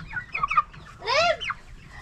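A broiler chicken about 28 days old gives short, close clucks followed by a louder squawking call, with faint background noise.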